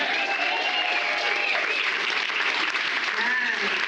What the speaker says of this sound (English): Can we give Kim a round of applause?